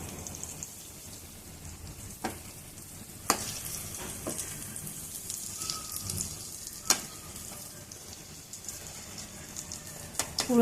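Chhana bara, vegetarian cottage-cheese fritters, frying in a pan of oil, a steady soft sizzle with several sharp clicks and clatters from turning pieces over, moderately close with no talk.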